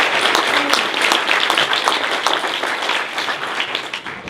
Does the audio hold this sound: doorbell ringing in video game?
no